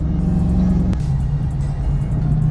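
A supercharged Fox Body notchback engine rumbles loud and close as it accelerates, with a sharp shift in pitch partway through, followed by a steady, strong drone.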